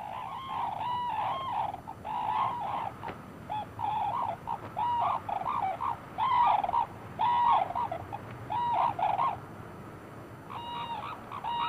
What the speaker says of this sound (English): They celebrate their partnership by calling together and performing ritual dances.